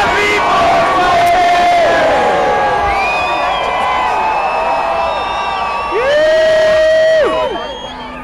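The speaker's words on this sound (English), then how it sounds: "I want you guys to scream happy 420" A large outdoor crowd at the Vancouver 420 2010 rally screams and whoops in unison at high volume. Many voices merge into a sustained roar that swells again before fading out.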